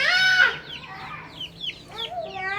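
Sick chickens with CRD (chronic respiratory disease) clucking in short nasal calls, with one loud squawk at the start and softer rasping clucks after it, heard close up over a faint low hum.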